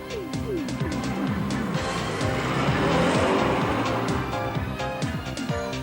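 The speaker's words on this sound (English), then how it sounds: "I've got my new radio control car here." A radio-controlled race car drives hard, giving a loud, constant high-pitched motor whine. The pitch keeps rising and falling as the car speeds up and slows down through the run.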